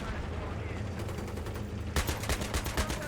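Battlefield 3 gunfire and shells: rapid bursts of automatic fire and heavy shots over a rumbling battlefield, growing denser and louder partway through, with someone talking quietly beneath.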